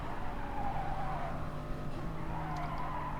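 Race cars in a rally-style racing video game on the Sardegna road course, chasing a Porsche, engines droning steadily with tire skids and squeals layered over a continuous loud motor roar.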